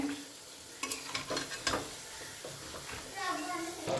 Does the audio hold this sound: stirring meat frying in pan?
yes